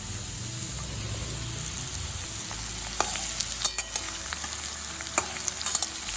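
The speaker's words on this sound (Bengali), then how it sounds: "ঝিঙেটাও দেখুন আলুর সাথে আবার 2-3 মিনিট এরকম কষিয়ে নিলাম।" Chopped ridge gourd fries with potatoes in a pan, a continuous close sizzle with scattered clicks of stirring that grow busier toward the end, no voices.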